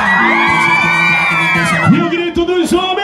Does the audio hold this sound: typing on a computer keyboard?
no